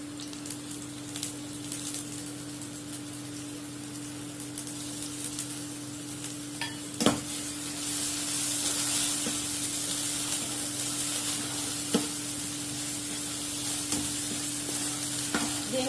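Masala spices sizzle steadily in a hot pan for a chickpea kurma, with a constant frying hiss, occasional scraping stirs and a few sharp taps, close and continuous.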